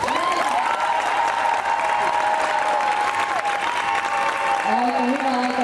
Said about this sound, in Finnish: Yleisö, raikuvat aplodit.